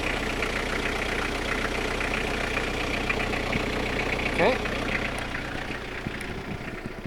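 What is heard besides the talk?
Toyota Town Ace diesel engine idling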